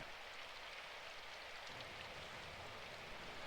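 Steady rain in the video game Symphonic Rain: a constant, even hiss of falling water that continues without a break, heard alone with no voices.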